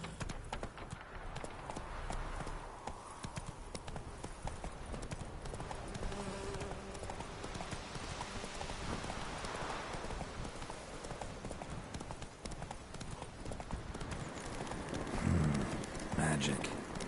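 A horse gallops in the video game Witcher 3, hooves clip-clopping in a fast continuous rhythm over a dense ambient background, with some speech faintly mixed in.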